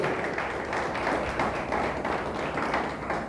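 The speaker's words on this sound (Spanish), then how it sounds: "Dele fuerte, fuerte el aplauso a Dios" Church congregation applauding hard, a dense steady wash of many hands clapping at once, loud and continuous throughout with no voices standing out.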